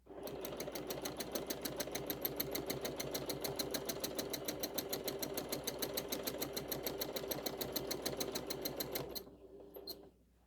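A sewing machine stitches a quilt at a fast, even rhythm of close needle strokes for about nine seconds, then stops abruptly and leaves a faint quiet tail.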